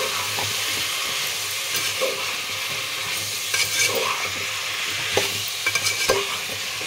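Drumstick and aubergine curry is stirred in a sizzling pot, a loud, close frying hiss under repeated scraping and clacking strokes of the spoon, with no voices.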